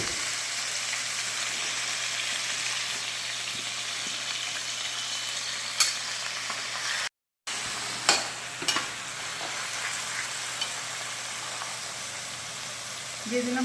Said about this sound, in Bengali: তেলটা গরম হয়ে গিয়েছে, এবার দিয়ে দেবো কুচনো মাংসের কিমাগুলো।